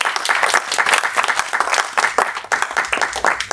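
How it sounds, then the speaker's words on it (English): A conference audience at an event on AI in schools claps in a brisk, dense round of applause, close and continuous for a few seconds. "can we give you a round of applause?"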